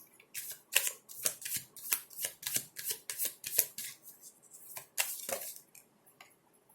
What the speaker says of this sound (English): Let's get some cards from the Whispers of Love Oracle deck.